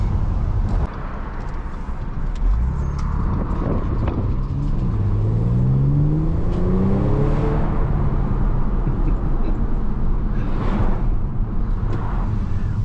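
A driven Audi S4's engine revs hard with a loud, close growl that climbs steadily in pitch as the car accelerates, then settles into a sustained drone with road rumble beneath.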